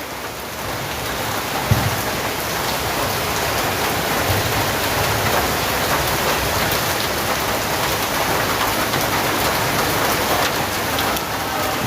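Steady, heavy rainfall drums on surfaces nearby, a constant loud wash of noise with a faint thump early on.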